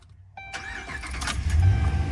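A Hemi V8 in a tow truck with no added exhaust cranks and fires, then settles into a deep, steady rumble that slowly builds in loudness, heard close up with no talking.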